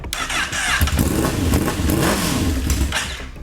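A rebuilt 2008 Honda CBR1000RR streetfighter motorcycle engine fires up and revs, holding a loud, steady, close-up roar with throttle blips throughout.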